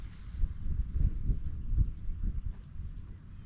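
Wet, muddy, shaggy horses moving through a rain-soaked flooded field, soft irregular thuds and squelching steps close by under steady wind and rain noise, no voices.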